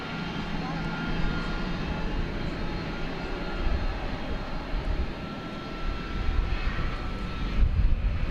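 A Qantas Boeing 787 Dreamliner in Yam Dreaming livery taxies and turns at DFW Airport, its engines a steady broadband rumble with a low drone fading in and out, and voices faintly audible underneath.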